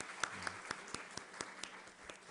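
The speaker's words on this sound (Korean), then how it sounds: "박수 쳐주시기 바랍니다" Church congregation applauding at a Wednesday worship service to welcome a newcomer; scattered hand claps with distinct sharp peaks, faint and thin, as if only a few people clap.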